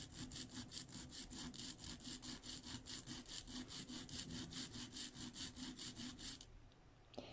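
Lino cutting tool rubbed back and forth on a sharpening stone in a steady, even rhythm of rasping strokes, close and fairly loud, stopping just before the end.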